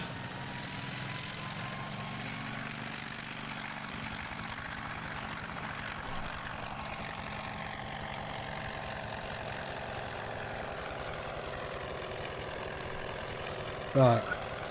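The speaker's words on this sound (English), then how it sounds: "it sounds like sounds like a Perkin diesel engine starting up" A sprayer in Farming Simulator 19 whose engine sounds like a Perkins diesel, running as a faint, steady drone with a low rumble throughout and a brief louder knock near the end.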